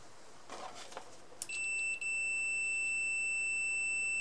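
Continuity buzzer of a Hantek 2D42 multimeter sounds a steady, loud electronic tone lasting about three seconds, preceded by faint clicks from probe contact.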